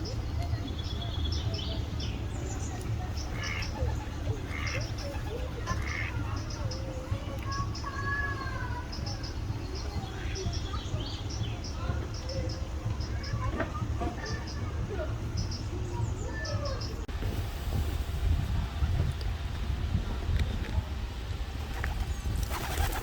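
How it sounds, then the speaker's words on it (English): Pigeons coo close by in repeated soft low calls, with a few chirps from other birds, steady outdoor background noise and occasional traffic. "Getting attacked there by the pigeons."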